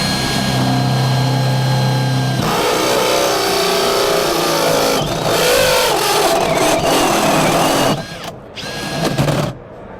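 Greenlee dual fluted step bit driven by a power drill through mild steel, a loud steady whirring grind that shifts pitch as it cuts, then stops with short bursts near the end.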